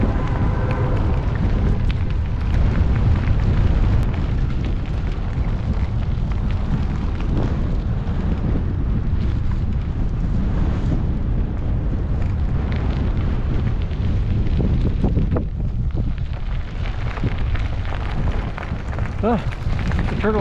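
Strong outdoor wind batters a microphone along a riverside towpath, a constant loud rumbling roar with gusty surges that drowns out the voices of people talking.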